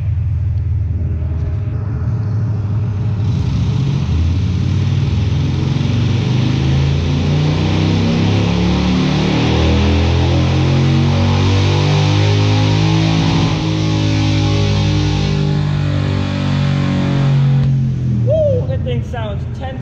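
A Harley-Davidson Iron motorcycle makes a full-throttle pull on a dyno, its engine roaring steadily up through the revs for about fifteen seconds before backing off, loud and close.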